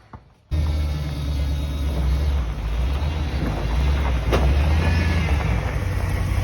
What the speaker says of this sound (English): Big Red's moving again under its own power, and that drive shaft's back on and working